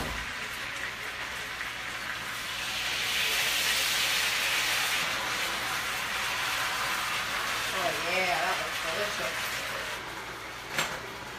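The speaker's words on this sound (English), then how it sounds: "flip my brisket that I have searing over here" Brisket sears in a hot pan with a steady, close hiss and sizzle that swells for several seconds and then settles, with a sharp clink near the end and a person talking over it.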